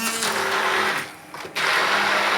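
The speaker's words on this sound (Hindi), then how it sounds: "हैंड ब्लेंडर से ग्राइंड कर लूँगी चटनी को" A hand blender grinding chutney whirs loudly, briefly slowing and dropping off before revving back up to a full grinding whine.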